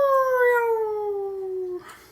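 A narrator's voice imitates a dog-like howl with a single long, falling wail that fades into a short breathy tail.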